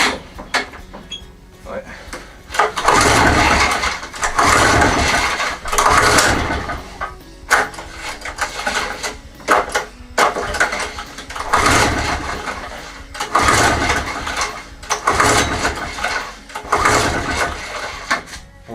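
A Rotax small engine on a lawn mower, cranked repeatedly in rough loud bursts that sputter and catch briefly, with a person speaking between attempts.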